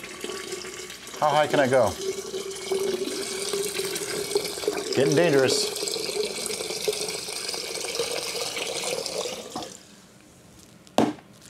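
Honey mead must poured from a height into a fermenting vessel for aeration makes a steady splashing stream that runs for several seconds and then stops, while someone speaks over it.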